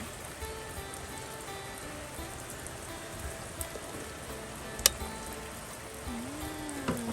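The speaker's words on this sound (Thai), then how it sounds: "ฝนตกพี่น้อง" Steady rain falling on a surface during outdoor cooking, a constant close hiss with scattered louder drop ticks, no voices.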